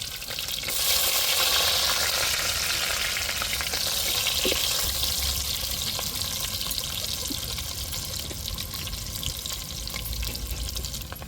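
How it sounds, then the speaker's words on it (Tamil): Small shallots and large onions fry in hot oil over a spice tempering, a steady broadband sizzle holding loud and even throughout with faint stirring scrapes underneath. "வெங்காயம் சேர்த்துக்கிடுவோம் சின்ன வெங்காயமும் பெரிய வெங்காயமும் சேர்த்துக்கிடுவோம்"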